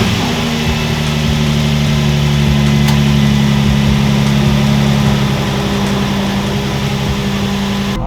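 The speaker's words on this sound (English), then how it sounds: "Idling good, just high right now because we are cold, so this is a cold start." A Nissan 350Z engine idles on a cold start after a plenum spacer install, a loud, steady, high-held idle with an even droning hum running without break.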